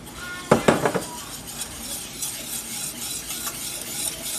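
A spoon or whisk clinks quickly against a pot while dry ingredients are stirred into warm milk for chocolate pie, a burst of close metallic taps followed by softer, steady stirring.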